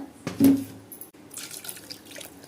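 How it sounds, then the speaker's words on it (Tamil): Water poured from a tap over ground semolina batter soaked with curd, a short splashing gush close by followed by fainter trickling and dripping, with no talk. "ரவை முழுகிற அளவுக்கு தண்ணி ஊற்றிக்கணும்"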